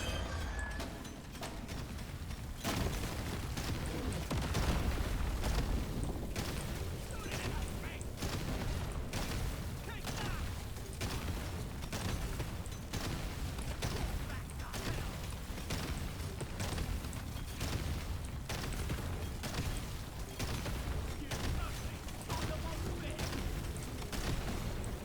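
Massive TNT explosions in the mining video game Deep Rock Galactic: Survivor sound as a rapid, steady run of booming blasts and crunching impacts, loud and continuous for the whole stretch with game noise underneath.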